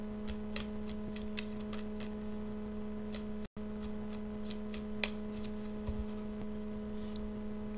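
Tarot cards are shuffled by hand close up in a steady, soft riffling patter with small taps, over a constant low electrical hum and with no talking.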